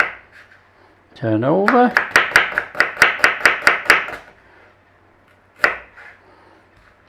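A knife slices an onion on a cutting board in a quick run of about a dozen crisp, evenly spaced chops, close and loud, followed later by one more cut; a brief spoken phrase comes just before the chopping.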